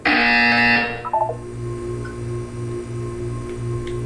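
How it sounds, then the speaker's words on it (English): A loud electronic buzzer in a video game blares for about a second, then cuts off, leaving a soft rhythmic pulsing tone and low hum. "You will hear a buzzer. When you hear the buzzer,"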